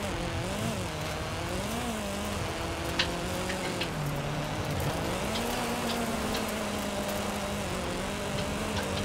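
A Mazda Miata engine revving steadily through a race in Forza Horizon 5, its pitch rising and falling with gear changes under continuous game track noise, fairly loud and without talk.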